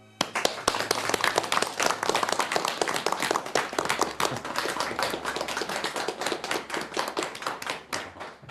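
A crowded meeting room breaks into warm, sustained applause to welcome a labour-movement leader as a guest. Many hands clap densely and evenly for the full stretch, loud and close, with no speech over it.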